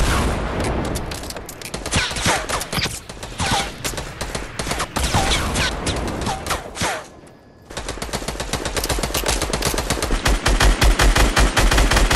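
Gunfire in the video game Fortnite rattles out in loud, continuous automatic bursts during a squad fight around a base. A brief pause near the middle is followed by rapid close shots that pick up again.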